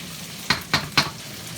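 Bacon and onion frying in a pan in a community kitchen: a soft steady sizzle with three quick stirring scrapes close together, no talking.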